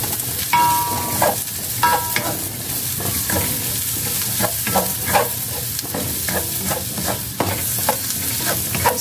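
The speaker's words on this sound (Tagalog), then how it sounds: "Isa natin to hanggang mag-brown-brown lang siya ng kaunti. Pero huwag naman susunugin kasi pangit." Beef innards sauté and brown in a pan, a steady sizzle of frying under repeated scraping and stirring strokes from a utensil, close and fairly loud.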